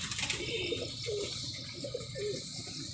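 Pigeons coo in soft, repeated low calls amid a steady outdoor background hiss, moderately close and fairly quiet.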